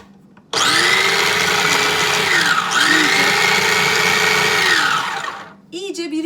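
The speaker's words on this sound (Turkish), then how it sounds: "Robotumuzu yine çalıştıracağız." A kitchen food processor whirs loudly and steadily as it blends banana with added coffee, its motor pitch dipping briefly midway and then recovering for about five seconds before cutting off into a short tail of faint noise.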